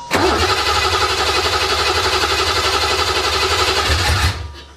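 A BMW M30B35 engine with individual throttle bodies and no exhaust cranks and catches almost at once, then runs loud and rough at a steady idle for about four seconds before cutting off abruptly.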